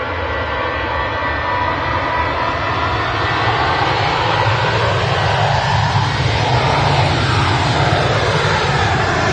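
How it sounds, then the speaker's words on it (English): A Ryanair jet airliner passes at Manchester Airport, its loud, continuous engine roar and rushing whine sweeping by close and steady throughout, with a slowly shifting pitch as it moves past. "I'll grab this Ryanair as it goes past."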